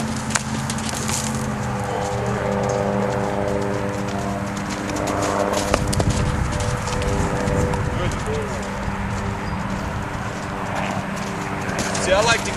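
The hooves of a dun Mustang gelding clip-clop as it walks during retraining for the saddle in Colorado. The steps are fairly close and come under steady talk from a man.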